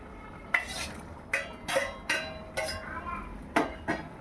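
Mushrooms added to simmering curry gravy and stirred in a pot, with repeated sharp clinks and scrapes of a metal spoon against the pot at an irregular rhythm, close and fairly clear above a low background hiss.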